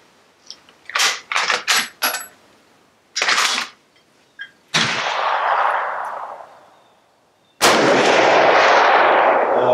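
Loud gunshots, with a quick cluster of sharp cracks, then a single shot, then two heavier blasts whose long echoing tails ring out for seconds, separated by short silences.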